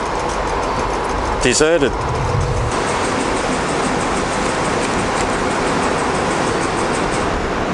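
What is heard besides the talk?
ambience at Flinders Street Station, Melbourne, with trains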